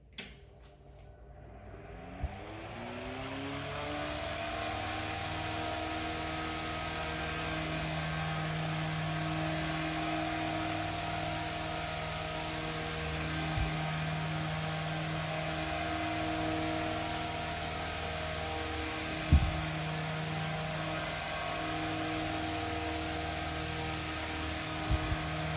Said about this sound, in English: Now here is the vintage fan with oscillation on.